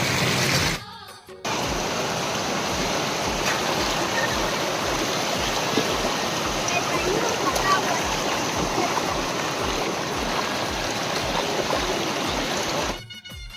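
Water rushes steadily over a village dam in Chhattisgarh, a broad continuous roar that stays loud and close almost throughout, briefly dropping away at the very start and end.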